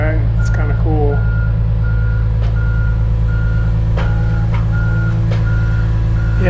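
A truck backing up at a construction job site with a Hitachi line machine emits evenly spaced reversing beeps over a loud, steady engine rumble, with brief clanks and voices in the background.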